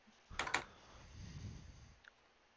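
Computer keyboard typing in a quiet room: a short burst of quick clicks near the start, then a low soft rumble of keys and a single faint click toward the end.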